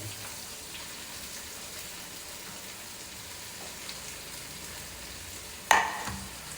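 Tomatoes sizzle and are stirred into a pan of chicken gravy with onions: a steady, even frying hiss runs throughout, with a sharp scrape or clatter near the end.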